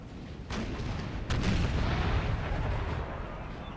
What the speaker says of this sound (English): Bit of a volley from the artillery,